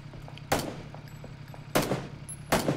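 Three sharp gunshots from a competitive Counter-Strike style shooter match, spaced about a second apart, each a loud broadband crack over a low steady game hum with faint interface tones.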